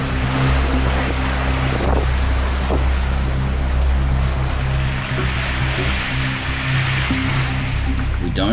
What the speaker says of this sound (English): We have a single reef in the main and a full head sail out, so we are sailing fast